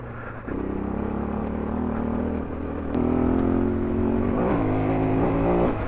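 A 2024 Husqvarna FE501S dual sport motorcycle ridden close up, a steady engine drone that rises in pitch as the throttle opens, loud and continuous with no talking.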